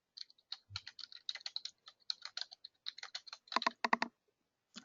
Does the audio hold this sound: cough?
no